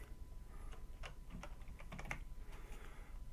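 Faint, quick keyboard typing during a search in FTB Infinity Evolved modded Minecraft, a short run of light clicky keystrokes with no voice.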